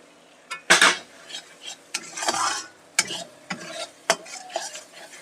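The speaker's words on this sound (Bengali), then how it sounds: "এই মশলাটা একটু কষিয়ে নেব" A spatula scrapes and clanks against a pan while spice paste with ground cumin and coriander fries for chicken curry. Brisk, irregular stirring strokes ring out over a soft sizzle, close up with no talking.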